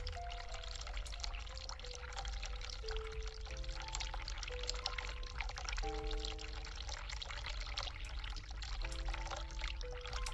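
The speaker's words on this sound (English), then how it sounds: "Turn hot water on." Hot water runs steadily from a tap in the video game The Cat Lady, a continuous pouring and splashing that stays loud and even throughout, with faint musical tones underneath.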